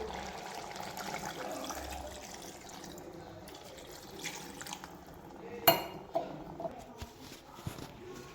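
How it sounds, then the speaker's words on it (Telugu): Water runs and splashes into a metal pressure cooker of country chicken curry, with a few light clinks and knocks of cookware along the way. "ఇప్పుడు వాటర్ యాడ్ చేద్దాం కప్పు"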